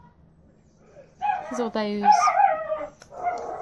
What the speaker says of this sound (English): And I apologize for my dog that you're hearing in the background.